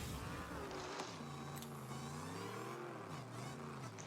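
A car in the video game Rocket League turns and boosts, a steady loud engine whine and rushing boost noise held for about four seconds with slight pitch swells, alone with no talk.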